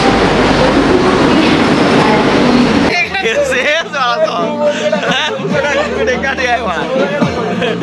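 The Teesta Torsa Express train runs from Bandel toward NJP with a loud rushing rumble and clattering wheels, then a steadier rolling clatter under the lively chatter of passengers nearby.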